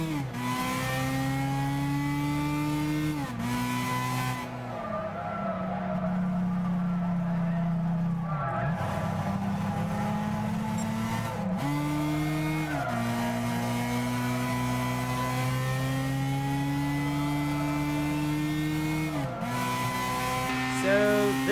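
A race car engine in a driving video game holds a loud, steady drone, its pitch climbing and dropping through several gear shifts and rev changes over about twenty seconds, with no voices over it.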